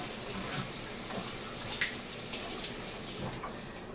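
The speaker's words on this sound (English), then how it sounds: "So I'm sitting here right now washing these peppers." Peppers are washed under cold running water, a steady faint splashing stream with small drips and handling noises close by, no talking.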